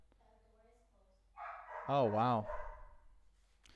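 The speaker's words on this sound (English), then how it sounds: "All right, I guess we're going to have some barking." A loud dog barks in a short burst of two or three rising, whining yips indoors, with a voice briefly exclaiming just before and some quieter room noise and faint talk around it.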